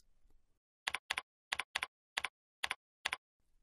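Computer keyboard keys pressed in a sparse run of about eight crisp, close clicks with irregular spacing, each sharp and isolated against near silence, entering a shell command.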